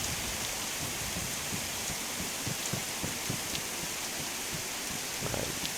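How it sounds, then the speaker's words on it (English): Steady rain falls in the DayZ survival game, a dense, even hiss of drops on surfaces with scattered louder patters, close and continuous with no voices. "The rain is actually, I know it's annoying to get wet and stuff, but it's giving me a little space from the zombies"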